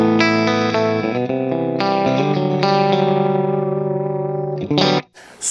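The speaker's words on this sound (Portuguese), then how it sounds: "isso aqui é o som limpo do 1050" Clean electric guitar through a 1050 amplifier, several sustained chords and arpeggiated notes ringing out close and fairly loud, ending in a brief muted strum.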